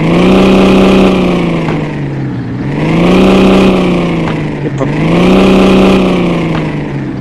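A Nissan GT-R engine revs loudly close by, rising and falling in three long smooth swells with a strong whirring, growling tone, with no talking.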